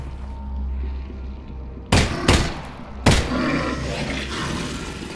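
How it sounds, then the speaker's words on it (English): Gunshots in the VR game Half-Life: Alyx: two or three loud, sharp blasts spaced about a second apart over a steady hum of game ambience, with no talk. "I'm gonna have to shoot this last one"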